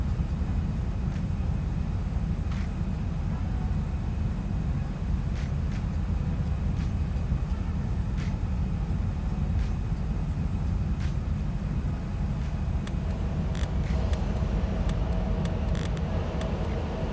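A light aircraft engine in the X-Plane 11 flight simulator, heard as a continuous loud low drone and rumble throughout, with faint clicks near the end.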